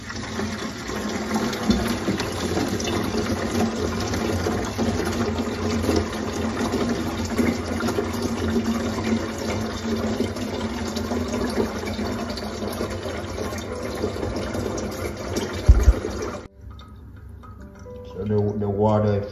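Water gushes steadily from a tap into a one-gallon container being filled to mix bird vitamins, a loud continuous rush that stops abruptly near the end, followed by quieter handling sounds.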